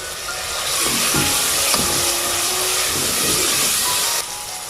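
Home-dried red chillies, coriander seeds and whole cumin frying in hot oil give a loud, steady sizzling hiss that swells after the first second and eases near the end, with no voices.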